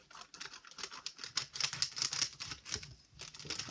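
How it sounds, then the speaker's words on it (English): Scissors snip and tear at a package of Pet Simulator X collector clips during an unboxing, giving a close, busy run of crisp clicks and rustles with no talking. "I'm gonna just cut it open."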